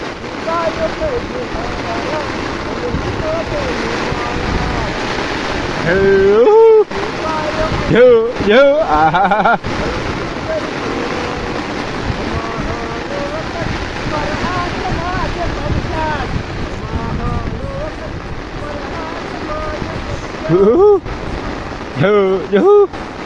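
Heavy rain and gusting wind lash down in a storm, a dense, roaring wash that runs steadily throughout, with a voice breaking through briefly a few times.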